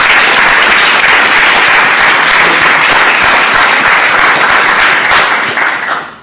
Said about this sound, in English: I would ask that you join me in applauding Commissioner Jackson